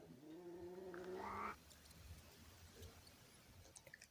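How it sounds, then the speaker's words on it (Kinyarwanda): A domestic cat gives a single drawn-out, rising meow lasting over a second, fairly loud and close, then quiet room noise and a few faint clicks follow. "Injangwe irahirita, iranyawuza cyangwa ikajwigira."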